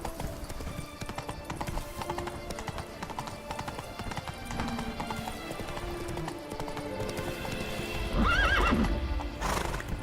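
Horse hooves from The Witcher 3: Blood and Wine clop steadily and close throughout, with a loud whinny near the end over a busy game soundscape.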